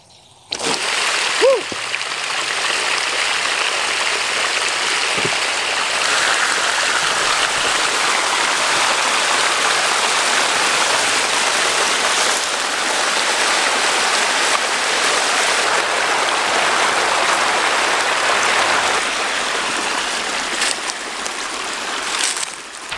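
Water gushes steadily from the drain plug opening of a rainwater tank, a loud continuous rushing splash that starts abruptly and holds for about twenty seconds before easing slightly at the end.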